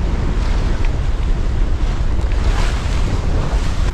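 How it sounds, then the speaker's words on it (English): Gusty wind roars across the microphone while waves rush and slosh around a sailboat under sail in New Zealand waters, a loud, steady, close wash of rumbling noise. "Getting pretty gusty now."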